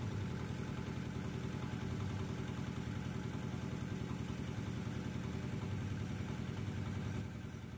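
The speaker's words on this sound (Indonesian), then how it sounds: "Dan penggilingannya menggunakan mesin penggiling." A soybean grinding machine runs steadily while making tofu, a continuous loud motor drone with a rhythmic mechanical pulse and a slight drop near the end, no voices.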